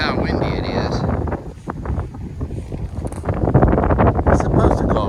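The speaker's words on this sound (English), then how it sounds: "This is how windy it is." Strong wind buffets the microphone in heavy, rumbling gusts that rise and fall, growing louder toward the end, at a campsite.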